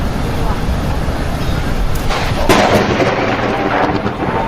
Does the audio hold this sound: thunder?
yes